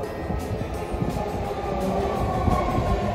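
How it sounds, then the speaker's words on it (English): A San Francisco–Daly City blue line subway train rumbles steadily at the platform nearby, with low continuous rolling noise and faint periodic clatter, no voices. "San Francisco Daly City Train."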